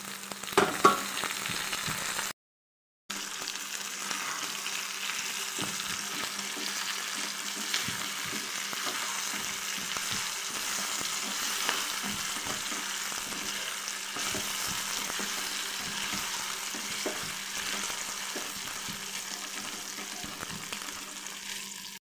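Prawns fry in a pan with a steady, even sizzle that runs on for a long stretch, broken by a brief silent gap and soft stirring scrapes, no voices.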